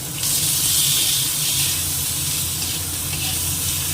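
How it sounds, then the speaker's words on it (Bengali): Ridge gourd, chopped green chilli and tomato frying in a pan, a steady moderate sizzle with bright hiss that starts sharply and continues evenly without talk. "এবার এর মধ্যে ঝিঙেটা দিয়ে ঝিঙের মধ্যে এই লঙ্কা কুচি রেখেছি আর টমেটো এটাও দিয়ে দিচ্ছি"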